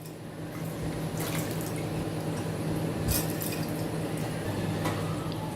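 Rice-washing water pours into a mixer jar holding rice, a steady close trickle and splash with dripping bursts, going on without a break.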